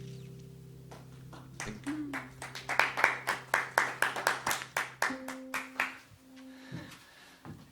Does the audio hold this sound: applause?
yes